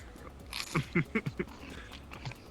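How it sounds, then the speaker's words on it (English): Dehydrated strawberries crunched between teeth, four distinct loud crisp bites in quick succession, close to the microphone. "There's some really crunchy strawberries."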